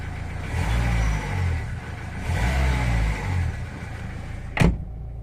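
A Renault Scenic II engine with an obstructed air intake runs and revs in two swelling pulses, a mid-pitched drone close by, followed by a short sharp mechanical squeal near the end.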